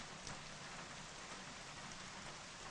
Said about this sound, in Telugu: వర్షం పడుతుందమ్మా